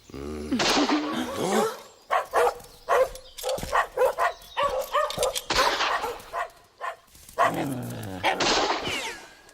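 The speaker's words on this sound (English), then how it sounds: "Where are those damn dogs?" Dogs bark repeatedly in a dubbed animated adventure set in British Columbia, loud, close, choppy barks and yelps coming in bursts, with some vocal sounds mixed among them.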